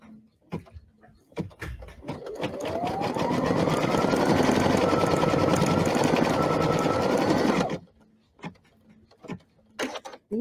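An embroidery machine stitching out leaves runs loud and close in a steady rapid whir for several seconds, framed by a few sharp clicks and knocks before and after.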